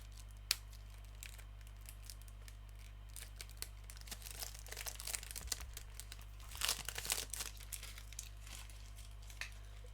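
Crinkling and tearing of plastic wrap as a CD is unwrapped from a limited jubilee PFK box set, soft scattered rustles building to a busier burst of crackling midway, close and quiet with no talking.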